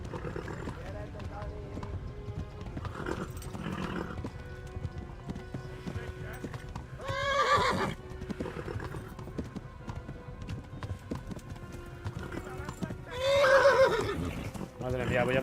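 A horse in Kingdom Come: Deliverance clip-clops at a gallop and lets out two loud, shrill neighs, one about halfway through and one near the end. Game music and spoken voices run underneath.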